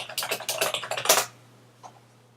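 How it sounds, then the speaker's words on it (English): Quick run of loud, clacky computer keyboard typing, a rapid burst of keystrokes lasting about a second, then a lone faint tap against a low background hum. "my keyboard is seriously loud"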